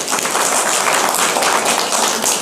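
An audience claps together steadily at a Diwali festival gathering held at a newly built Shiv Baba centre in Shiva village, Panipat; the dense, even applause carries through without a break.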